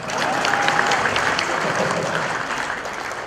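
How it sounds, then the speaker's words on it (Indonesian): An audience at a stand-up comedy show in Indonesia claps steadily for about three seconds, a dense even patter of many hands. "Tepuk tangan buat saya."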